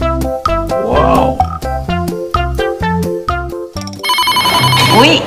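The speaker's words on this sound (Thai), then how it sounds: "อุ๊ยโทรศัพท์ดังอ่ะ" A loud, melodic electronic ringtone plays a repeating tune of bright synthesized notes, ending in a buzzier, brassier flourish, with no one speaking.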